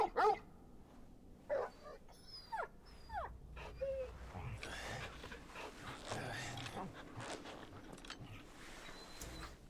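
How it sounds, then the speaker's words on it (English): Torgal, the dog in Final Fantasy 16, gives a few short barks, whimpers and pants within in-game action, soft and scattered under a voice talking. "You are the best dog."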